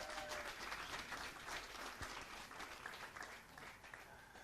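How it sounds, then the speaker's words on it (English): A crowd applauds steadily throughout, a dense wash of clapping that fades slightly toward the end, after a shot at a mixed 10m air rifle standing shooting final. "Big applause."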